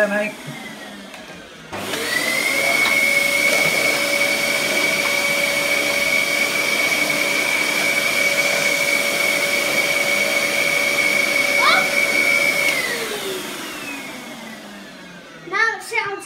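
A 2003 Dyson DC11 vacuum cleaner starts up after a brief quiet moment and runs with a loud, steady motor whine for about ten seconds, then winds down as it is switched off, followed by a few faint bumps.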